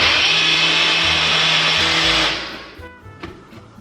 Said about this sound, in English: I'm gonna go ahead and blend this before we add anything else